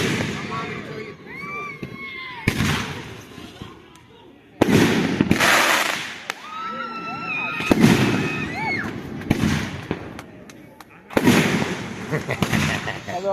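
Fireworks at Stoutts City booming and crackling outdoors: several loud bursts spaced a few seconds apart, each followed by crackle and whistle, with people talking and reacting between the explosions.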